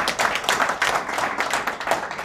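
An audience at a management talk claps in a burst of lively applause. Individual sharp hand claps pulse irregularly, fairly close, with no talking over them.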